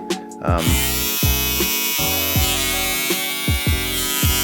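Electric hair clippers buzzing loudly and steadily up close, their motor drone dipping in pitch repeatedly as they bite through hair.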